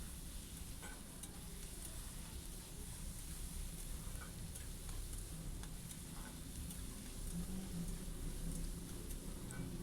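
Finely chopped tomatoes and onions frying in a spiced oil tempering for an okra dish, a steady dense sizzle with occasional stirring scrapes, close and continuous throughout with no talking.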